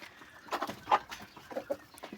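A black rooster clucks in short, throaty bursts, a few close calls spaced unevenly over a quiet farmyard background in Andijan, Uzbekistan.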